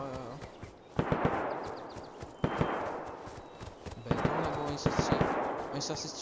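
Bursts of rapid automatic gunfire repeat at a distance in the game DayZ, with faint voices talking underneath.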